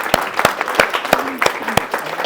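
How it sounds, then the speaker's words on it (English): Meeting audience applauding, a brisk run of sharp claps with fairly steady rhythm, near and loud, with no talking over it. "Can we have applaud for both of those?"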